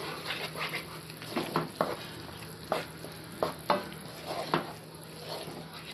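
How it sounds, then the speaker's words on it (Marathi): Masala paste (vatan) is sautéed in a pan for prawn pulao, with a soft sizzle underneath and intermittent scraping strokes from the stirring spoon, irregular and close by. "वाटण सुद्धा आपण 1 ते 2 मिनिटं चांगलं परतून घेऊ"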